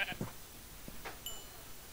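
Short sheep bleats from a video game, a couple of brief nasal calls at moderate volume in quick succession over a soft background hiss.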